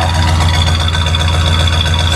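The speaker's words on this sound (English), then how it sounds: "For a single exhaust 81 Cadillac and a 6-liter." A 1981 Cadillac with a 6-liter engine and a single exhaust without a catalytic converter idles close by in a driveway, giving a loud, steady, even low rumble throughout.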